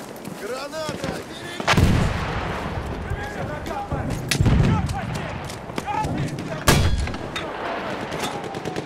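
Grenade explosions and gunfire in Battlefield 1 on a battlefield, with several loud booming blasts at intervals amid continuous shooting and shouting voices.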